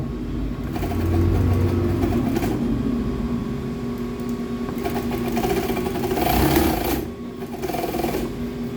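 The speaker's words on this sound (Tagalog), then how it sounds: "Ito po, papandarin na natin ang makina." Industrial sewing machine stitching leather material runs with a steady loud whirring hum for the full stretch, swelling slightly midway, with no voices over it.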